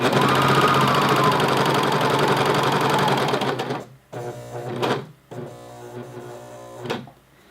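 A sewing machine stitches elastic onto a waistband in a steady run of about four seconds, then stops and restarts in short bursts with pauses between, close and clear.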